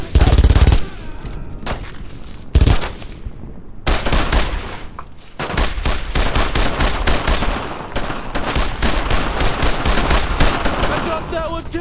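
Loud, sustained World War II gunfire in the Brothers In Arms shooter game, dense rapid machine-gun bursts and rifle shots in long overlapping volleys, with shouted voices mixed in.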